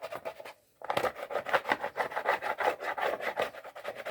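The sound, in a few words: soft plastic scraper scraping filler off a motorcycle part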